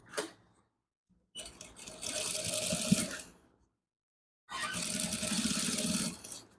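A sewing machine stitches a shirt collar in two sustained runs of rapid whirring, separated by short pauses and a faint opening burst, close and fairly loud with no talking.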